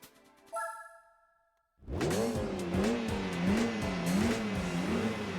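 A Gran Turismo 4 race car engine roars and revs up and down in rising, wavering pitches after a short electronic beep countdown at a standing start, loud and close, with some tire squeal.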